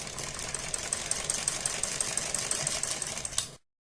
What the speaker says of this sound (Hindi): इस पर एक हम कच्ची सिलाई लगा देंगे, यानी कि एक बड़ी सिलाई करके लगा देंगे